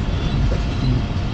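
The Shalimar Express rolls slowly through Gojra station on a foggy winter evening, a close, heavy rumble of wheels and railcars with soft rhythmic clatter throughout.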